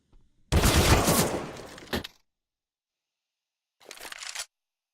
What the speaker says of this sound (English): You can hear that flashbang go off towards party, and Clara's got eyes over towards stairs.